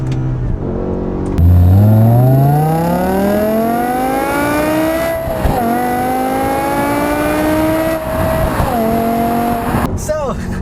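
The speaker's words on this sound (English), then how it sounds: "a 5-liter V10 engine here and the E60 M5s" A 2006 BMW M5 E60 with a 5-liter V10 accelerates hard on a back road, its loud engine note climbing steeply through the gears with brief dips at each shift, while someone talks over it.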